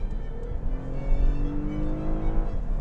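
A 2019 Lexus ES 350 F Sport with a naturally aspirated 302-horsepower V6 driving the front wheels accelerates, heard from inside the car as a rising engine drone over steady road rumble, with no talking.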